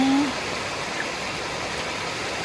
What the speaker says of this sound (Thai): เสียงน้ำในลำธาร มันก็ไม่ใช่แค่เสียงธรรมดานะ